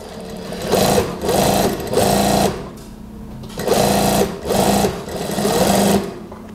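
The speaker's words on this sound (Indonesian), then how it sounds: "Dijahit." Sewing machine stitching a pocket on a one-piece-sleeve house dress, running in two loud bursts of three rapid stitching runs each, separated by a short pause, close and alone.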